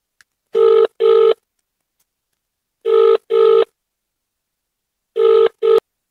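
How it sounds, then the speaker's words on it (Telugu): An outgoing phone call rings on the line in a pair of buzzy tones, the two-burst pattern repeating three times with silent gaps between, loud and clear with no one talking. "ఇప్పుడు ఆడికే కాల్ చేస్తాను చూడండి."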